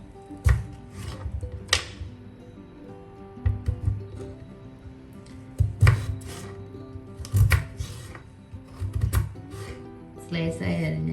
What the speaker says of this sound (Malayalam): ഒരു കട്ടിംഗ് ബോർഡ് എടുത്ത് പൊട്ടറ്റോ നമുക്ക് 2ആയിട്ട് കട്ട് ചെയ്യും.